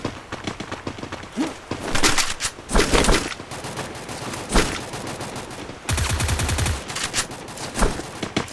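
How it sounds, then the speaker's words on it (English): Loud bursts of rapid gunfire come in several clustered volleys with brief pauses between them, including one sustained stretch of machine-gun-like rattling. "gun!"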